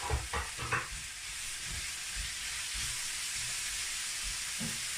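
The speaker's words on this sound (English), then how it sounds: "we're going to put the carrots in, because these are raw carrots, so we want them softening up a little bit. Give them a stir fry." Raw carrots stir-fried in a pan for chicken fried rice, giving a steady close sizzle and hiss with a few soft stirring scrapes near the start.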